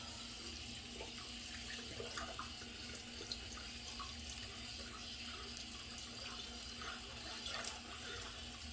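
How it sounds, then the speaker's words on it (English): Running tap water pours steadily into a sink while a leather shave bowl is rinsed under it. The rush is continuous and fairly soft, with faint splashes, and no one speaks. "Rinse out the shave bowl, the leather bowl."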